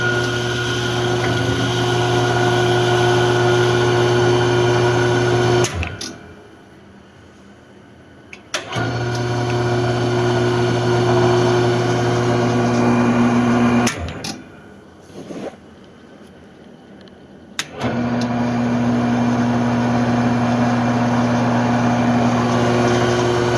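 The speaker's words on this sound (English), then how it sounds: "I was just checking to make sure the motor is okay without the pulleys, or without the belts installed to the spindle" A Logan Model 1925 lathe motor runs with no belts to the spindle, giving a steady tonal hum that cuts off and restarts twice, with short near-silent gaps between runs.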